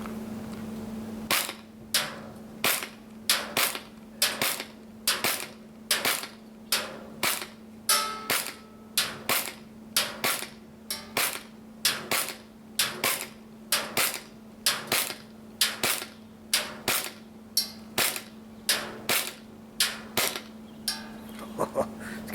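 Cybergun CANiK TP9 Elite Combat airsoft pistol emptying its magazine outdoors, a steady run of about thirty sharp, evenly spaced clacking shots at close range, alone with no talk.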